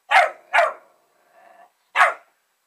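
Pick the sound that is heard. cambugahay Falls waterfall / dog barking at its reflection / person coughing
dog barking at its reflection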